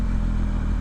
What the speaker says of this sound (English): The engine's really labouring there, just at that speed in second.